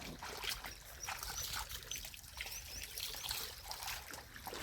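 Irrigation water trickles and gurgles into a maize field, a soft, uneven running flow with small splashes, faint and fairly distant, nothing else standing out above it.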